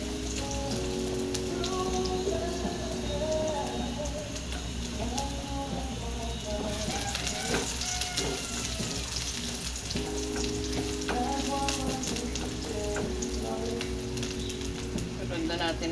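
Garlic and ginger sauté in a hot pan with oil, giving a steady, close sizzle that runs throughout with faint clinks and stirring scrapes on top.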